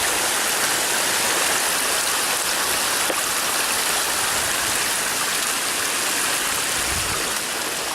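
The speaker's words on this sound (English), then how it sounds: "It's like we got another creek here." A creek flowing beside a hiking trail on the Pacific Crest Trail in Washington, a steady, full rushing wash of water that stays close and continuous throughout with no talk.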